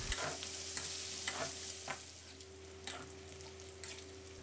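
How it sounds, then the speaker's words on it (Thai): Pork fat renders in a pan, frying with a steady close sizzle and a few light crackles and stirring scrapes, no talk. "ตอนนี้ก็เริ่มมีน้ำมันหมูออกมานะครับให้เราปรับจากไฟแรงมาเป็นไฟกลางเลยนะครับแล้วเจียวต่อนะครับ"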